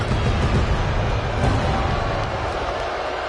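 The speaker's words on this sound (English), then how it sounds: "The entire WWE Universe is cheering on Shaq, including yours truly." Dense, steady crowd roar from an arena audience cheering for Shaq in the WWE 2K25 wrestling game, a loud continuous wall of noise that eases slightly toward the end.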